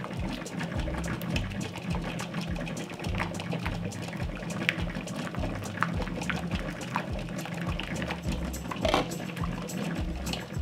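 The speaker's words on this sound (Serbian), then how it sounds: "od momenta kada voda proključa kuvaću 3 sata" Water boils steadily in a covered pot holding jars of beans on a stove, a continuous bubbling, rumbling hiss with faint clinks, fairly close and even in level throughout.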